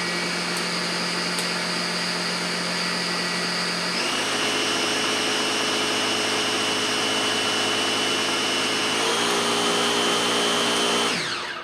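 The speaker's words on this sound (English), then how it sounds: "Puree it just a little bit more." A blender purees a thick smoothie, running steady and loud for about twelve seconds with a shift in pitch partway through, then winding down at the end; no one speaks over it.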